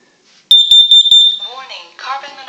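A household smoke alarm under test shrills in loud, close, rapid high-pitched beeps for about a second, then a voice takes over with talking to the end.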